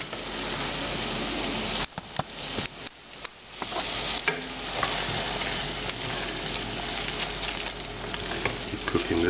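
Pasta and tomato sauce, made with tomatoes marinated Calabrian style, reduces with a steady close sizzle in a pan while a spoon scrapes and stirs it in short bursts. Nobody speaks.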